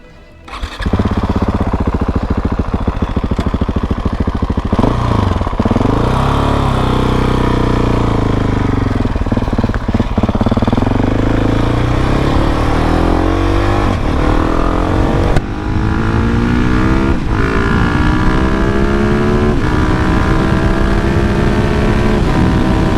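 A 2020 KTM 690 Enduro R single-cylinder motorcycle rides continuously and loudly for the whole stretch, its engine note rising and falling through revs and gear changes.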